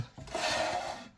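An Allen key grinds and rasps through a single turn, tightening the cam lock on an Evolution ST-1400 G2 rail. One continuous close scraping sweep of about a second, with no voices.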